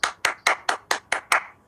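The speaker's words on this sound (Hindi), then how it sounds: "एक जोरदार ताली।" Rhythmic clapping at a business seminar welcoming a speaker onstage, seven sharp, evenly spaced claps in quick succession, fairly close and without voices.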